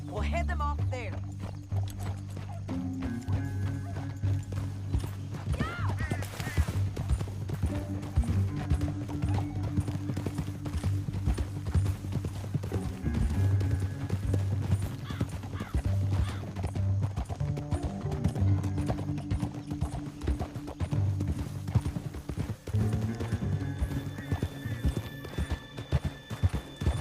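Horses gallop with continuous clip-clop hoofbeats and occasional whinnies in the Red Dead Redemption 2 video game, heard under steady music and voices talking throughout.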